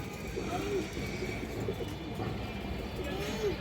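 Pakistani pigeons, including an all-black bird and a green-necked one, coo softly nearby, low rolling calls recurring over a steady background hum.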